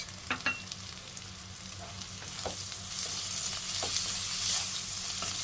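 Whole bay leaves, cinnamon, cloves, cardamom and onions stirred in a frying pan for a restaurant-style green chilli chicken, a steady sizzle that swells louder midway, with scraping spoon strokes and clicks against the pan.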